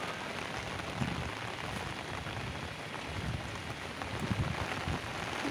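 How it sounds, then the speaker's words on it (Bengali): Rain falls steadily on surfaces around a garden with trees, a soft even hiss of drops with a few louder splashes, faint and continuous. "খুব ভালো লাগে বৃষ্টির মধ্যে"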